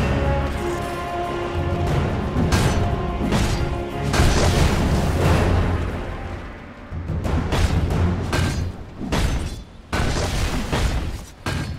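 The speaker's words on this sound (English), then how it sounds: "Dire's middle tower has fallen." A tower crumbling in Dota 2, heavy booming crashes and debris bursts layered over busy game music and battle effects, with several loud impacts in close succession.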